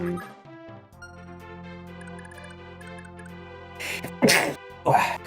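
During a Fire Emblem 4 game stream, a person sneezes in two quick, sharp bursts near the end, breaking over steady, soft background game music with sustained tones.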